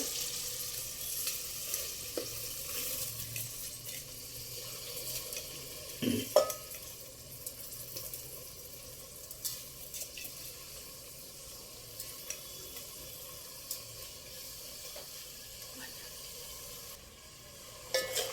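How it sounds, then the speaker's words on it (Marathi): Rice tossed in with peas and cashews roasts in a pan over a high gas flame for a veg pulao, giving a steady, close sizzle with occasional stirring scrapes and no talk. "गॅस मोठा आचेवर ठेवलेला आहे आणि याला छान भाजून घेऊया तांदूळ"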